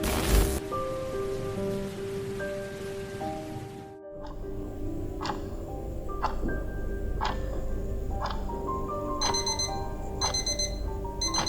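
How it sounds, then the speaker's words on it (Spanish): Steady rain patters throughout, then a repeating electronic alarm clock beeps in short regular bursts over the rainfall. "Seis de la mañana. Suena la alarma."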